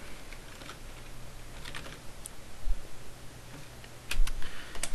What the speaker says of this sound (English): I'm going to type in copyright.